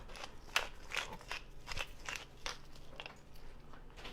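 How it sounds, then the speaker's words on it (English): Black pepper cracked from a grinder over eggs, a faint series of short gritty crunching bursts in an irregular rhythm, fairly close and quiet with no talking. "in my eggs, I'm also going to put some fresh cracked pepper"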